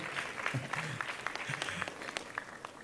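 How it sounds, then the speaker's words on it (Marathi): Audience applause at the inauguration of a literary festival, a moderate burst of many hands clapping at once in an indoor hall, with speech faintly mixed in. "त्यामुळे टाळ्या ह्या वाक्याला"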